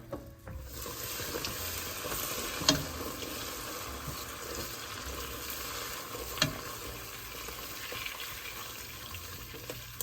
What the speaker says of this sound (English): we're going to wait for our butter to get browned